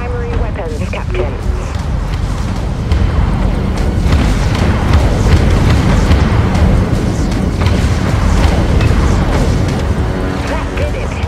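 Heavy cannon fire and explosions from warships in the video game Dreadnought form a dense, continuous rumble of booms and impacts, with a voice talking over the battle throughout.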